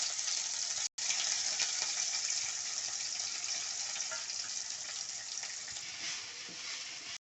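Drumstick leaves, onion and garlic are sautéed in a pan for a chutney. A continuous, even sizzle runs the whole time, broken by one brief dropout near the start.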